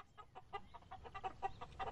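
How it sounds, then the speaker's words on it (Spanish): A hen clucks in a steady run of short, fairly loud, rhythmic notes, with no voices over it. "Ah? Cloqueó Nancy"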